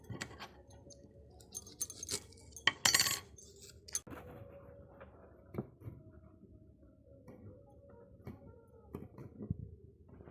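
Onion and green chilli being chopped on a wooden board, a run of quiet, uneven knife taps and clicks close by with short pauses, no talking.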